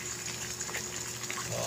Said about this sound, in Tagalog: kumukulo-kulo na siya ng husto.